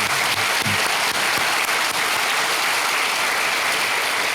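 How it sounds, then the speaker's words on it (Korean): Warm applause from a church congregation standing during a Korean Sunday worship service, a dense, steady wash of many hands clapping that fills the room continuously from start to end. "뜨거운 박수로"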